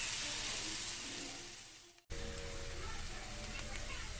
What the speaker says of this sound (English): saute the onions and the garlic